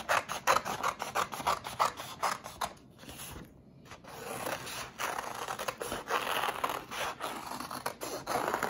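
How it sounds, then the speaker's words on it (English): Scissors cut two sheets of paper at once into strips, making close, repeated crisp snips and scraping slices with a brief pause partway through and no talking. "I'm cutting 2 papers at a time just to cut down on time."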